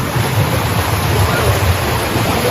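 Fast-flowing water pours down from above onto rocks, making a loud, continuous, close roar of broadband rushing noise with no breaks.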